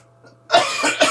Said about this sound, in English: Hopefully by Thursday I won't be coughing on you.